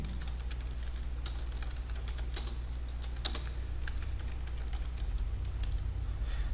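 Typing on a computer keyboard while entering text in Microsoft Word, a quiet irregular patter of key clicks with a few louder taps, over a steady low hum with no talking.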